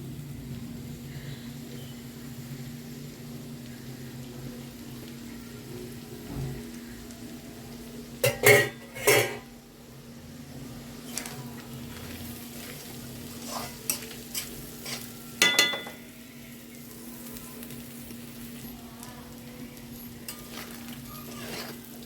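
Keema (minced meat) fries in a pan over a steady low sizzle and hum. Stirring is intermittent, with a few sharp clusters of spoon-on-pan clatters midway and later, and no one speaks.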